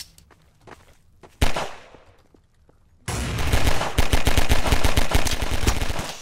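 Rapid gunfire in the game Clock Blockers: a single sharp shot, a pause, then a sustained burst of loud, dense automatic fire with repeated rhythmic cracks up close.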